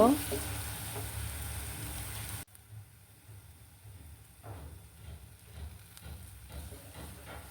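Bottle gourd seeds with coriander leaves cook in a pan, a soft continuous sizzle with occasional stirring scrapes, fairly quiet and close, after a louder noisy burst at the start.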